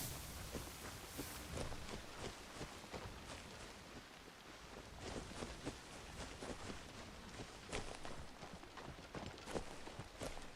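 Horse hooves clop steadily on the ground in the video game Assassin's Creed Shadows, a quiet, irregular run of thuds set against a hissing, rain-like ambient background.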